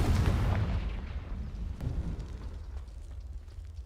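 The Confringo blasting spell from Hogwarts Legacy lands as a heavy, rumbling blast that starts loud and slowly fades over a few seconds, with no talking over it.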